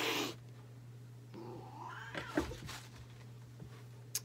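A house cat meows several times at close range in a quiet room, with short drawn-out calls over a steady low hum.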